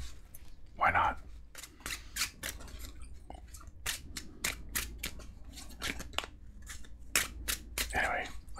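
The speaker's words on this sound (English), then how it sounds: "I'm just randomly shuffling for no reason" Playing cards being shuffled in repeated sharp riffling bursts with short pauses, close and crisp, in a quiet setting between stretches of soft whispered talk.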